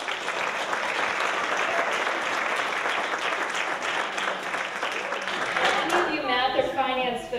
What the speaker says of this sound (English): Have a big round of applause for all of our students.